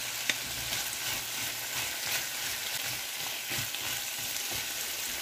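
Red and green chilies with vegetables and softened potato frying in a pan, a steady mid-level sizzle with soft crackles and occasional stirring scrapes, no voices.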